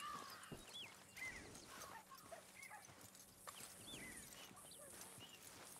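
Hoofbeats of a horse in the video game Red Dead Redemption 2, soft clip-clop steps at an uneven pace with faint bird calls and ambient outdoor sound around them.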